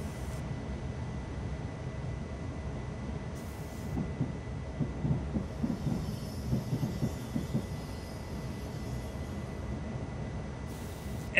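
Intercity NS ICMm train rolling slowly into Utrecht Centraal in Train Simulator 2015, a steady low rumble of wheels on rails with faint clattering joints, constant and close throughout.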